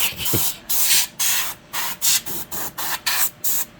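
Close, loud bursts of an aerosol spray can hissing onto a 1/16 scale model truck, roughly eight short sprays in a steady on-off rhythm with brief gaps between them.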